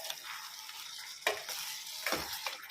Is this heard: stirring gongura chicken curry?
yes